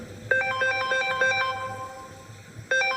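A phone ringtone plays a repeating electronic melody, rings clearly for over two seconds, pauses, then starts again, close and loud with no talk over it.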